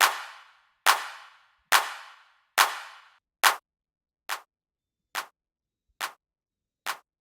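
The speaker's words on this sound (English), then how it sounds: "Then we have the clap." A clap sample in a techno track built in Ableton Live, nine dry, evenly spaced hits with a short reverb tail, the first four longer and louder, the last five shorter and quieter, with no talk over them.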